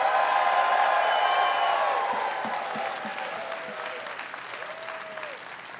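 An audience at a closing ceremony applauds in a sustained, dense burst of clapping that slowly tapers, with faint whoops and crowd murmur mixed in.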